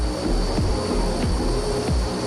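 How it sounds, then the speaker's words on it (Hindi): Propeller engines of an AN-32 transport aircraft drone loudly and steadily after landing on an expressway, a dense continuous roar with pulsing beats, close and unbroken by voices. "तो ये परिवहन विमान, मालवाहक विमान AN-32 है"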